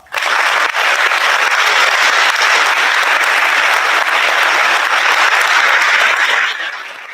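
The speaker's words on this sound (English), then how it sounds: "Please give a round of applause to Sadie Hop." An audience at a high school senior awards night claps for an award recipient, a dense, loud wash of applause that holds steady for several seconds before tapering at the end.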